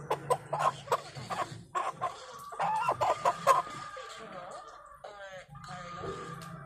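Chickens cluck in short, choppy bursts nearby, with some faint background voices and farmyard noise.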